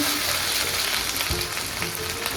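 Whole cumin seeds and chopped ginger fry in hot white oil, a dense close crackling sizzle with a few soft bumps of stirring, steady and without talk.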